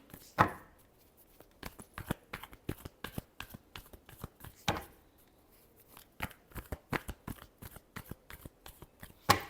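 Tarot cards are shuffled by hand in quick, crisp riffling bursts, with sharp snaps marking each split and a final tap, close and clear with no talking.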